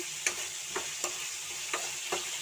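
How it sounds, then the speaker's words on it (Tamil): Steady frying sizzle of tomatoes sautéing in a pan with periodic scrapes of a spoon stirring, close up, no voices. "நல்லா வதக்கிக்கலாம்."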